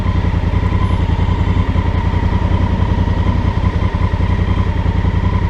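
Steady, rhythmic engine and exhaust pulse from a Honda Africa Twin Adventure Sports motorcycle ridden in the rain, loud and close, holding an even throb throughout with no talking.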